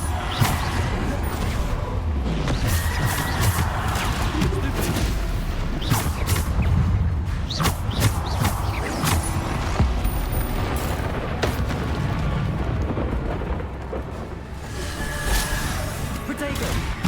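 Repeated Bombarda spell explosions in the PS4 game Hogwarts Legacy, booming blasts and crackling impacts layered over dense, continuous battle noise throughout, with brief vocal sounds mixed in.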